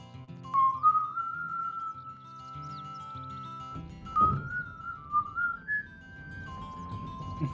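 Someone whistles a melody in long sliding notes along with music, the tune carried over a low instrumental backing.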